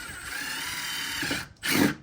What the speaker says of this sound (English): I'm just gonna drill the first one, make a notch, pull it down, drill the second one